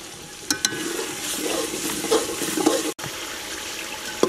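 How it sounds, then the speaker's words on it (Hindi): Ground spices being fried in a pan for a fish soup, a soft steady sizzle with a few clinks of a utensil against the pan. "मसाले शामिल करने के बाद इसे थोड़ी देर के लिए भून लेंगे।"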